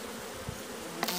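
Honeybees buzzing around an open hive during an inspection, a dense continuous drone close to the ear with a few louder passes near the end.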